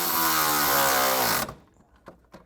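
A power tool winds up and runs steadily at full loudness for about a second and a half, tightening the bolts on a rear sway bar clamp of a Polaris RZR XP1000, then cuts off, leaving a few faint clicks and knocks.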